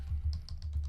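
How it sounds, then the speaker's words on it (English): Quick typing on a computer keyboard, a short burst of several close, crisp key clicks in rapid succession over a low background hum. "Typing it real quick on the fly here."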